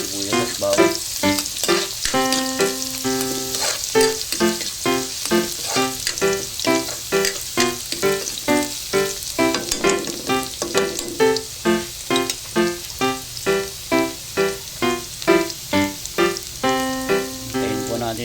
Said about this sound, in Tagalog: Mix muna po natin ang sibuyas at bawang.